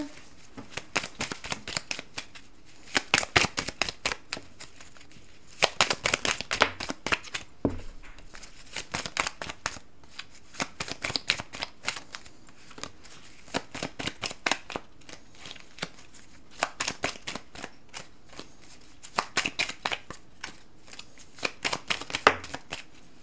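Lenormand fortune-telling cards shuffled by hand in repeated bursts of crisp riffling and flicking, close and fairly loud, separated by short pauses, with no talking.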